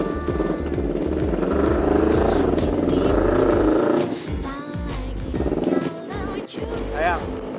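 A motorcycle engine is started and settles into a loud, steady rumbling idle with a throttle blip near the end, while people talk over it.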